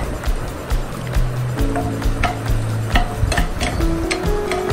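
Paneer and capsicum being stirred in a kadhai, with a steady scraping, clattering stir and soft sizzle running throughout at close range.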